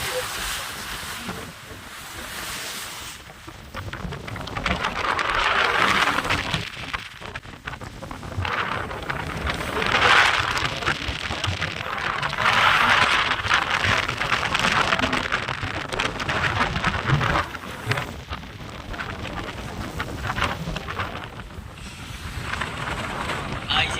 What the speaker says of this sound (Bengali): এত পরিমাণ ঝড় বাতাস, আমার কথাটাই রেকর্ডিং হচ্ছে না ভিডিওতে